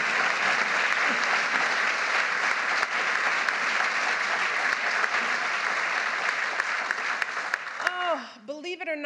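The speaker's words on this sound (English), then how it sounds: "Let's give them both a round of applause." Sustained applause from a large audience at the unveiling of official White House portraits, dense and steady for about eight seconds before tapering off as a voice begins speaking.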